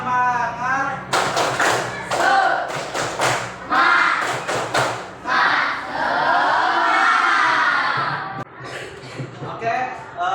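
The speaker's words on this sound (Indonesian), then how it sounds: "Tepuk semangat." Primary school class of sixth graders performing a rhythmic clap-and-chant routine, bursts of sharp group claps and thumps in patterned beats alternating with shouted chanting voices, loud and close throughout.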